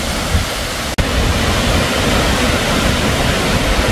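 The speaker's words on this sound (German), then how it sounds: "Aber da kommt reichlich Wasser runter." Waterfall in Chiang Mai with plenty of water pouring down, a steady, loud broadband rush that fills the whole clip with no voices and only one brief dropout near the start.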